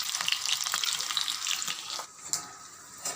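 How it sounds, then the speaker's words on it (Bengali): Prawn fritters (chingri macher bora) frying in hot oil, a soft continuous sizzle with crackling pops, fairly quiet and with no voices. "চিংড়ি মাছের বড়াগুলো ভেজে ফেলবো"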